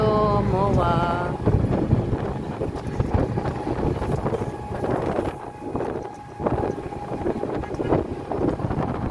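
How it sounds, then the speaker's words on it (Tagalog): Wind buffets the microphone in a steady broadband rush with louder gusts, and a brief voice-like tone early on, all fairly loud outdoors at the Mall of Asia. "Hangin, ang sarap."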